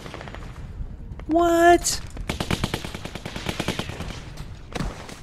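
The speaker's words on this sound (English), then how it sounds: "That's like a machine gun." Rapid machine gun fire bursts out in The Walking Dead video game, a loud sustained volley of shots followed by scattered gunfire and clatter, with a startled voice reacting briefly.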